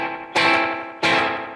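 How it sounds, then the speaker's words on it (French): Two electric guitar notes or chords, each struck sharply and ringing out, thickened by a very short slapback delay that makes them sound almost reverberant; played alone with no voice. "je vais rajouter un delay qu'on appelle slapback, qui est extrêmement court"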